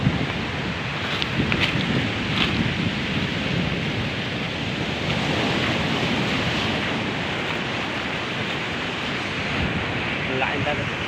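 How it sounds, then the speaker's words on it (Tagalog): Big sea waves roll and surge along the shore during a shellfish-gathering outing, a steady loud wash of surf mixed with gusting wind buffeting the microphone for the whole stretch, with no pauses. "Malalaki ang dagat."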